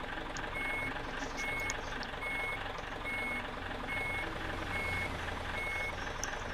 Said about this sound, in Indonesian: lanjut untuk sound mundur